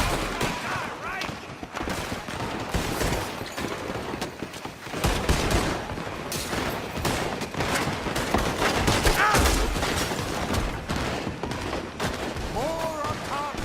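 Dense gunfire in Red Dead Redemption 2, rapid overlapping rifle and pistol shots crackling continuously through a loud outlaw shootout, with game voices and music faintly beneath.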